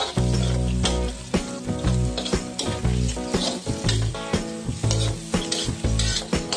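Garlic and onions for pork adobo sizzle loudly in a frying pan, with rhythmic stirring clatter and steady tones running underneath.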